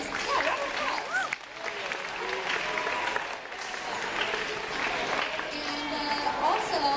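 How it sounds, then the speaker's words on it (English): A school event crowd applauds steadily and fairly loudly, clapping mixed with cheers and whoops, continuing for several seconds without a break. "Yeah, round of applause."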